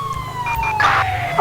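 An emergency siren wails loudly and continuously from a fire truck in the GTA V LSPDFR police mod, its tone sweeping with no talking over it.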